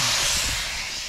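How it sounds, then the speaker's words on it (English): About a cup of red wine deglazing in a hot Dutch oven, a loud bright sizzle and hiss that fades slightly over a brief second. "We'll add some red wine, about a cup of red wine. Let that deglaze in the pan."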